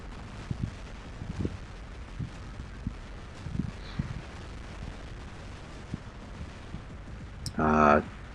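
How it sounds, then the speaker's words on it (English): Carnage Thunder guns firing in an online tank battle video game, scattered muffled shots and impacts through the stretch, ending in a louder sustained burst of fire. "Took out that with the Thunders"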